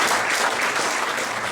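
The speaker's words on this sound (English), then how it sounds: "Give him a round of applause." Audience applause fills a Rotary district conference hall, a dense, steady wash of many hands clapping at close range for the whole stretch, with no speech over it.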